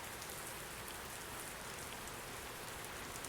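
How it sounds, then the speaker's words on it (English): Steady rain falls in Euro Truck Simulator 2, a continuous even hiss of drops drumming on the truck from start to finish with no talking over it. "Where did the rain come from?"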